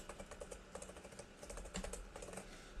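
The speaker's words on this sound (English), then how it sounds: "Let's just type a very big number here" Quiet, rapid typing on a computer keyboard as a number is entered in Excel, a steady patter of close key clicks with no talk.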